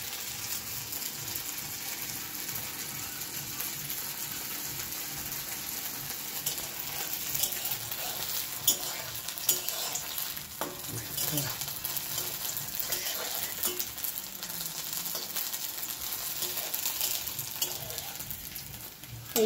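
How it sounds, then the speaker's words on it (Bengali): Small pieces of flour dough frying in hot oil, a steady soft sizzle with occasional stirring clinks, fairly quiet and continuous throughout. "এইভাবে ছোট ছোট করে তেলের মধ্যে একটা একটা করে দিয়ে ভেজে নেব।"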